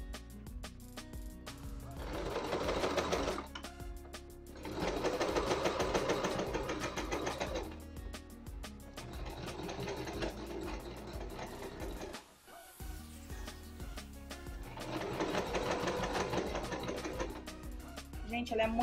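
An Elgin Genius Plus sewing machine running a straight stitch through thick fabric in bursts of steady mechanical whirring and needle clatter, separated by short pauses, heard close up.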